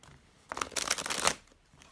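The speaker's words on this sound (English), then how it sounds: "while I am shuffling" Tarot cards are shuffled up close in one short burst of crisp riffling and flicking, with quiet before and after.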